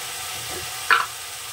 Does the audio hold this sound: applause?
no